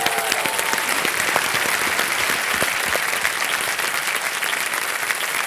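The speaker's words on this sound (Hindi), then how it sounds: "एक बार जोरदार तालियां हो जाए इनके लिए" Studio audience on the Kaun Banega Crorepati set bursts into loud, steady applause for a contestant, dense clapping sustained throughout without a break.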